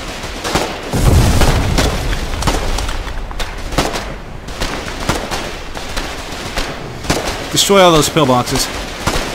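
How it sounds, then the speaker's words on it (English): Sticky grenade explosion during a siege in the video game Foxhole, heavy booming blasts and gunfire in a loud battlefield din, with a brief spoken line over the noise. "that was a sticky grenade"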